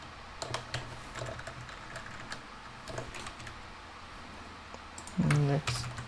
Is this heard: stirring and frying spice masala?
no